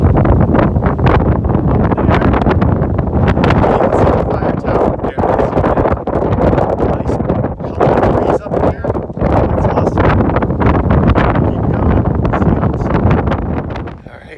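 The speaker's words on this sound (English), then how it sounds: "It's pretty windy up there" Strong, steady wind on a mountain ridge near a fire tower buffets the microphone with a continuous low roar and gusty rumbles, loud throughout and no voices.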